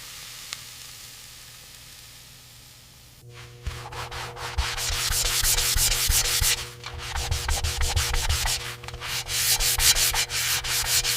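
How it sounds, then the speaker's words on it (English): Brass brackets from a 1902 Stanley Steamer are polished by hand, giving close, continuous rasping and rubbing strokes. The clip opens with about three seconds of faint hum, then the strokes grow louder in rhythmic surges. "we carefully polish the brass brackets, bringing back their original luster"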